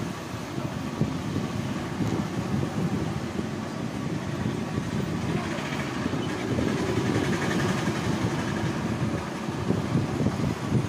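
Rough, continuous mechanical grinding noise from a Unicorn motorcycle engine with a worn, pitted bearing, steady and fairly loud throughout with no talking.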